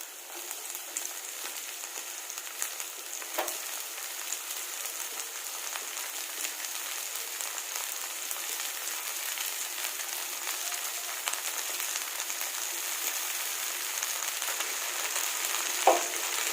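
Ivy gourd and onions fry in a pan over high gas, giving a steady, close sizzle throughout with a couple of brief scraping stirs, and no talking.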